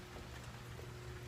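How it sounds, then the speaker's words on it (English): Rain falls steadily onto a wet outdoor deck in a yard, producing a soft, continuous hiss that stays even and quiet throughout. "as you can see, the deck is wet, so it's raining out here"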